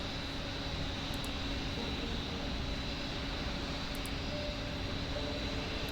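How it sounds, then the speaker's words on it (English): Jet airliner noise from a flight simulator game, a Jetstar A320 arriving nearby, a steady broadband engine roar that holds at an even level throughout with no talk. "We have a Jetstar A320 arriving next to us."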